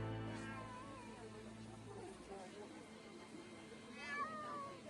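A cat meows amid background noise after a Russian strike destroyed an apartment building in Dnipro, with faint tonal sounds and the cat's cry rising near the end.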